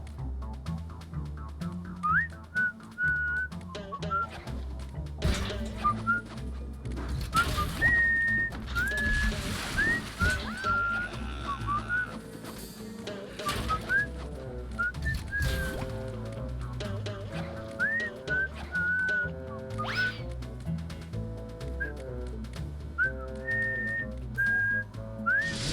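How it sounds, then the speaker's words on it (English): Whistled melody theme music from the SpongeBob SquarePants: Battle for Bikini Bottom (Rehydrated) video game, a bright recurring whistle tune over a steady bouncy instrumental backing, loud and continuous throughout. "I missed the whistle theme already"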